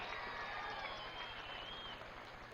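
Audience applause at an Andhra Pradesh government ceremony marking concrete work on the Polavaram project: a steady, dense patter of clapping from a large crowd throughout, heard from a moderate distance with a faint background hum.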